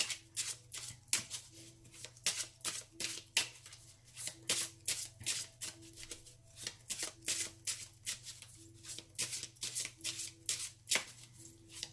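A Palm Vintage Tarot card deck is shuffled by hand in a quick, continuous rhythm of soft riffling flutters, close and steady throughout with no talking.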